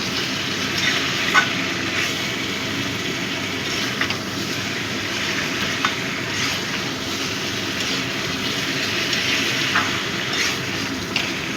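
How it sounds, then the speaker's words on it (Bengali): Spiced masala for a shrimp and cucumber curry is sautéed in a pan. A steady, loud sizzle runs throughout, with faint stirring scrapes. "একটু কষিয়ে নেব।"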